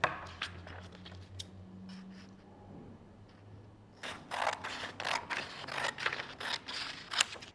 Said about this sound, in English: So I'm going to cut this piece of paper in half, grabbing my scissors.